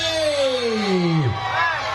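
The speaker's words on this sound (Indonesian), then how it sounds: "Lagi-lagi tepuk tangan dan sorak-sorai pada penonton menghangatkan suasana sore hari" Spectators at a tug-of-war tournament final between Senopati and Angling Dharma roar outdoors in the afternoon, one loud long yell sliding downward above the crowd's cheering.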